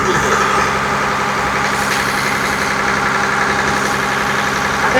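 A small fishing boat's engine runs at sea, a loud, steady, throbbing putter close by with no talk over it.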